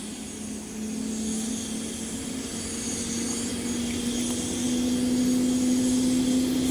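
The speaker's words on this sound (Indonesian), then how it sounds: "sama-sama kita sudah mendengar suara pesawat" Steady aircraft engine noise at Soekarno-Hatta airport, a continuous drone with a sustained tone that slowly rises in pitch, growing a little louder over the seconds, with no talking.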